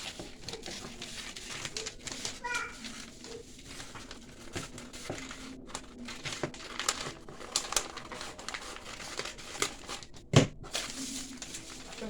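Scissors snip through paper while cutting out a drafted smocked ruffle sleeve pattern, soft repeated crisp cuts and rustling paper handling throughout, fairly quiet and close, with one sharper clack near the end.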